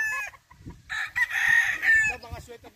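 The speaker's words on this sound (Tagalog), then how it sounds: "yan ang mga manok." On a Philippine farm, chickens cluck close by while a rooster gives a loud, drawn-out crow that overlaps the clucking.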